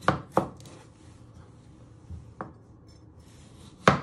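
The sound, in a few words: knife cutting potatoes in half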